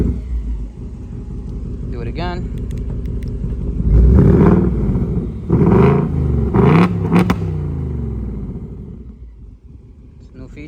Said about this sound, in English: you can actually rev the vehicle by just hitting the unlock button and locking the car